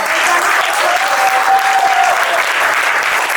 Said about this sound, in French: Un applaudissement vraiment